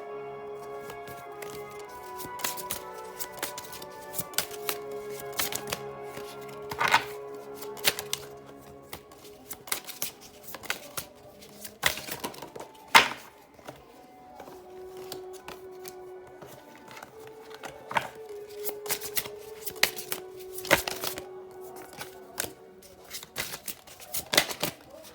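Oracle cards are shuffled and drawn by hand, giving soft riffling and sharp slapping clicks that come in irregular bursts over quiet background tones, with no talking.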